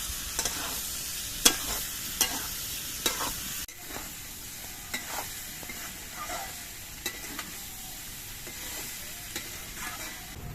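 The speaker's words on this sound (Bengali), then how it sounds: "সোয়াবিন দিয়ে আলু দিয়ে কিছুক্ষণ নেড়ে দেখে মিশিয়ে নিয়ে কষিয়ে নিতে হবে" Soybean chunks and potatoes being stirred and fried together in a pan, with a soft steady sizzle under irregular spatula scrapes and knocks, a few sharper clacks early on, then quieter stirring.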